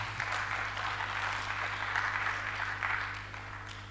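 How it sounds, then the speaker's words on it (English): A conference audience claps for three presenters at a capstone event: a continuous, moderately distant patter of applause over a steady electrical hum, easing off slightly toward the end. "Another round of applause for our 3 presenters."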